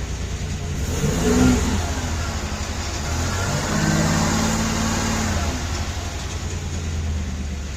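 Engine of a 1989 Buick Reatta with freshly rewired ignition coil connections revving up, a steady mid-pitched drone that swells into a louder rev, then holds at a raised idle, close by.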